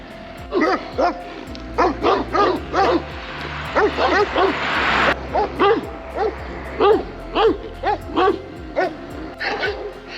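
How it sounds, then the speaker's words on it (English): Dogs bark repeatedly behind a fence along a coastal walking trail, sharp rhythmic barks in quick bursts, fairly close and loud, with a brief rustle in the middle. "I've not had many dogs barking at me the last couple of days walking along the coast."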